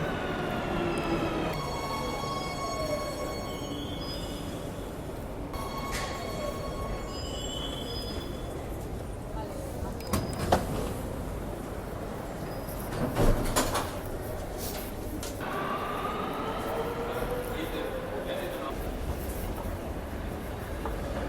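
Metro train carriage rumbling along with squealing wheels, sliding doors opening and closing, and a few electronic chime tones, heard from inside the car over about twenty seconds, steady and moderately loud.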